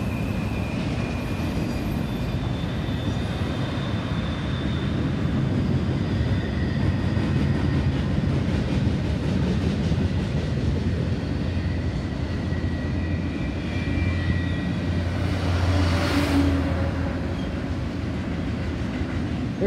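A long freight train rumbles past steadily and loudly at a rail crossing, its continuous roar joined by semi trucks on a nearby road, with no talking.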